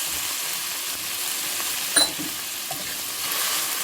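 Chopped garlic and onions fry in hot oil for a stewed pork dish, giving a steady, fairly quiet hiss with one brief louder crackle near the middle and no talking.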